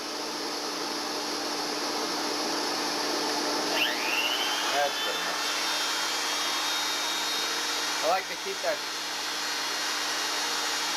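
A sander runs steadily with a vacuum attached, a continuous broadband whine throughout, while someone talks over it.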